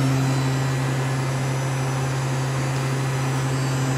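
Hanwha ML12 CNC Swiss-type lathe with main spindle and turning tools running its cycle, a steady loud mechanical hum with a constant low drone and broadband whir throughout, no speech.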